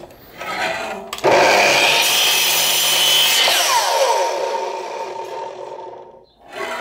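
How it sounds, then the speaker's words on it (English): A drop saw cutting through a piece of timber while making a wooden toy: the motor spins up, the blade bites through the wood in a loud, rising whine, then spins down to quiet. "if you're ever using a drop saw, obviously the piece of timber that you're cutting needs to be back in hard against the guide"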